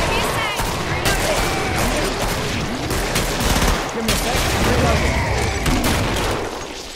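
Rapid overlapping gunfire from pistols and rockets in the video game Killing Floor, loud and continuous bursts with booms, with players' voices talking underneath.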